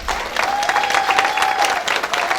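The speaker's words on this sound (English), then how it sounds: "Let's get another warm round of applause for Ann Wise." Warm applause from a talent show audience, dense steady clapping filling the room from start to finish, with a sustained tone running underneath.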